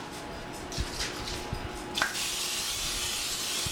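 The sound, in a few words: cooking spray on George Foreman grill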